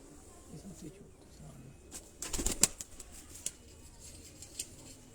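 Pigeons flutter and flap their wings in a brief flurry at middle distance, with faint bird sounds and people talking around them.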